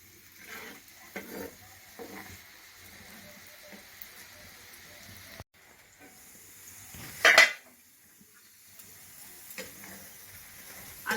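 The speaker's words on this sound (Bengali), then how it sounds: "আলুটা ভালো করে ফ্রাই করে নেব, ভাজতে ভাজতে সেদ্ধ হয়ে যাবে।" Potatoes frying in a pan of oil while neem leaves are prepared, giving a quiet, steady sizzle with faint stirring clicks throughout and one brief louder scrape or splash near the middle.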